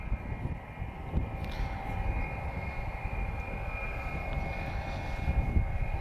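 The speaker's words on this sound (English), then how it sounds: "So another Vueling departure." A Vueling Airbus A321-231 departs from Lisbon airport, its jet rumble faint and distant, a steady low roar with a thin whine held above it.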